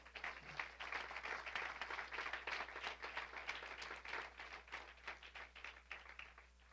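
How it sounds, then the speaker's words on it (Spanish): A congregation at a church service in Manhattan claps in faint, fairly sparse applause with a distinct rhythm of separate claps, over a constant low electrical hum. "Démosle un aplauso al Señor."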